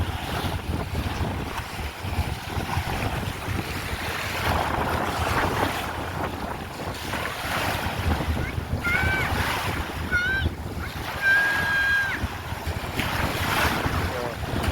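Waves wash onto a beach under heavy wind buffeting the microphone, a continuous rushing surf with brief high chirps from birds or voices in the middle stretch.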